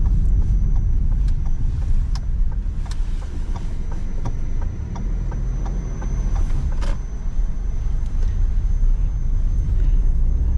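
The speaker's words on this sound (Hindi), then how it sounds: "ऑफ रोडिंग मैंने थोड़ी बहुत तो यहाँ पे ऑफ रोड पे चला के देखी है गाड़ी।" A new 2025 Swift car drives off-road, heard from inside the cabin as a steady, fairly loud low rumble of engine and tyres with scattered clicks and knocks from the rough ground.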